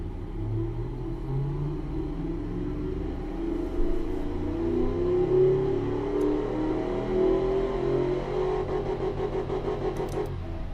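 A simulated car engine in the Automation game, set up as a 1991 luxury car, revs up and settles in smooth waves, a moderate rumbling drone with a slight rise midway.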